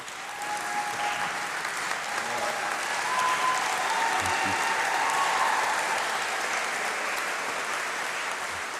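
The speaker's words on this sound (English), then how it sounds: "give them a huge round of applause." An audience applauding steadily at a graduation ceremony, a dense wash of clapping that swells slightly in the middle and carries on for several seconds.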